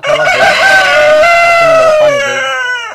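Tiger chickens on a poultry farm of about 200 birds, several roosters crowing loudly and close, drawn-out calls overlapping with clucking hens, continuous for the whole stretch with no talk.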